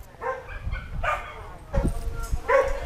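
A three-month-old puppy gives several short yipping barks at irregular intervals, fairly close but moderate in level, with some background rustle and handling noise.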